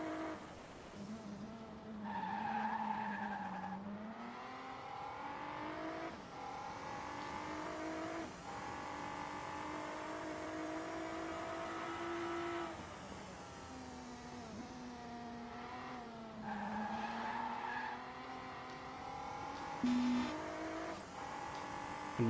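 Race car engine drones and tire skids from the RACECLUB video game, sustained and fluctuating as the car corners and accelerates, fairly quiet with no talk over it.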